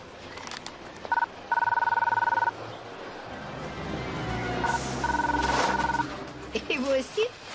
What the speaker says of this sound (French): Mon chien, Rex, et mon téléphone